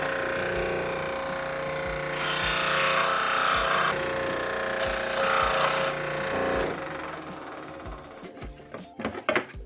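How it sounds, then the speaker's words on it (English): A scroll saw nibbles out the corners of a wooden piece, a quick buzzing reciprocating chatter that comes and goes in short bursts, moderately close, ending in a few sharp knocks. "And then we will take a scroll saw and nibble out the corners so it sits in"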